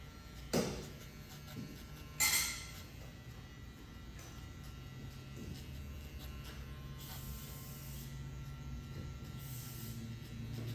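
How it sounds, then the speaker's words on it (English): Electric hair clipper working clipper-over-comb during a skin fade, a low steady buzz running throughout with a couple of sharp handling clicks early on, no talking. "So I use clipper over comb to get that hair out of the way"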